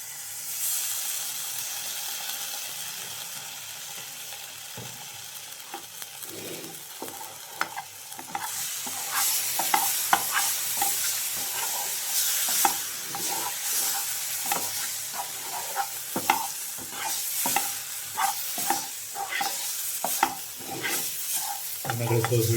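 A frying mixture being stirred in a pan after tomato sauce goes in, a steady close sizzle and hiss broken by repeated scraping strokes of the spoon that grow busier toward the end, with no one speaking.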